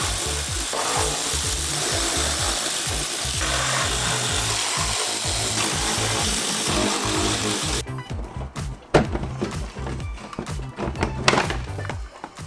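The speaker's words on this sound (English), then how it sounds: "So I'm going to get this arch liner completely removed so it'll give me access to the bolts." A power tool loosens fasteners on the wheel arch liner of a BMW M135i. It gives a close, steady buzzing whir for about eight seconds, and after it stops come scattered plastic knocks and rattles.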